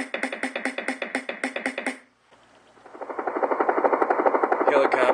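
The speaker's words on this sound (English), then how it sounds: "Helicopter." A helicopter's rotor chops in fast, even beats, cuts out briefly, then comes back as a rising, steady whirring drone.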